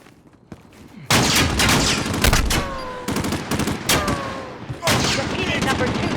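Dense gunfire in the Call of Duty: Modern Warfare (2019) campaign mission Operation Kuvalda, loud bursts of automatic fire and heavy shots in several waves after a quieter start, with whizzing sweeps between volleys.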